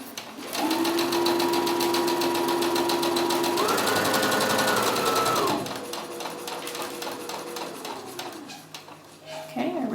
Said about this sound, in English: I'm going to sew all the way down to the center where I've marked with the red pin